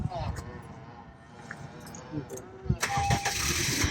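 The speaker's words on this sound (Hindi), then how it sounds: "ये देखें वो रिमोट से जो है ना गाड़ी स्टार्ट हो गई है" A Honda Civic engine started by remote cranks and catches partway through, rising from a low rumble into a steady running sound beneath someone talking.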